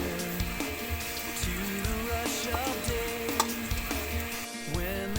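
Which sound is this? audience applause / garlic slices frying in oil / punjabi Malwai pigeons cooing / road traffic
garlic slices frying in oil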